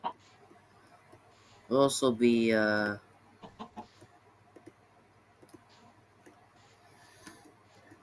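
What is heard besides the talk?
baby chicken clucking in Minecraft video game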